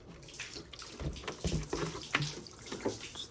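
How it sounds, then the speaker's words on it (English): Distilled water is poured from a jug into the coolant reservoir of a 2019 Yamaha YXZ 1000, giving soft, uneven splashing and gurgling in short bursts, close and fairly quiet. "just throwing some distilled water"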